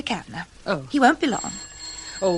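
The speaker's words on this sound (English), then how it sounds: "excuse me, that's my phone." A telephone bell rings in an office, a thin, steady tone that starts partway through and carries under a man's speech.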